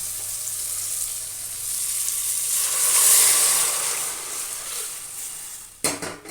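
Water is poured into a hot cooking pot for rice and dal, giving a loud steady sizzling hiss that swells and then tapers off, ending with a short clatter of the pot.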